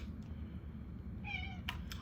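A cat meows twice near the end of the clip, short and fairly close, after a low steady background rumble.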